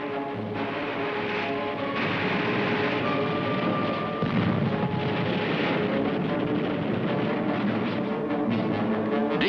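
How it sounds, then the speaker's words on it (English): World War II coastal artillery guns firing on an invasion task force off southern France, heard as a dense, loud, continuous rumble of heavy booms and blasts with no pauses. "Their coastal guns opened fire on the Dragoon task force."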